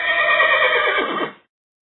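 A pony ridden by a cowboy gives one loud, close whinny lasting just over a second, fading into silence.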